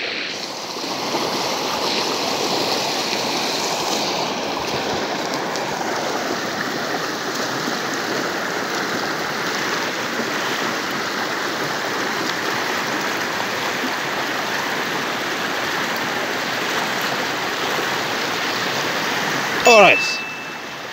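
A flooded river rushes loud and close in a continuous, churning roar of turbulent water, steady for its whole length, with a brief knock near the end.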